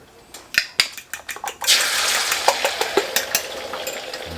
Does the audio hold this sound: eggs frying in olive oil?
yes